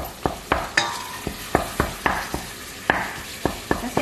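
Ground meat sautés with onions in a pan for chili con carne, with a soft sizzle under a regular series of sharp spatula scrapes and taps, roughly two per second, close and clear.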